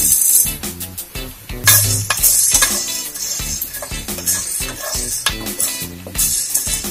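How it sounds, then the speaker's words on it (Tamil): Black pepper and whole spices dry roasting in a pan for homemade garam masala, with constant scraping, clinking and stirring against metal, loud and close, and a steady dry rattle under the strokes. "மிளகு வறுவல் வச்சு எடுத்துக்கலாம்"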